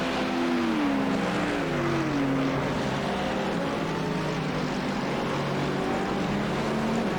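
GT3 race cars in the iRacing sim at Hockenheim brake and accelerate, engine notes dipping on the downshifts and then climbing again under power, a continuous loud drone with several cars overlapping.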